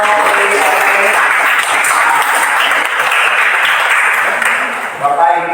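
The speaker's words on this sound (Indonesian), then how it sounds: "Kasih tepuk tangan yang meriah buat" A class of students applauding in a classroom, a loud, steady wash of clapping that runs for about five seconds before tapering, with a voice beginning to talk at the very end.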